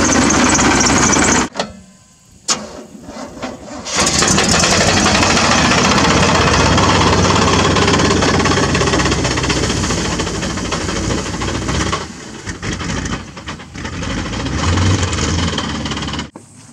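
A Chevrolet Z71 pickup engine is started in gear and keeps running loudly, a steady rough drone close by, broken by brief dips and cutouts near the start and again toward the end.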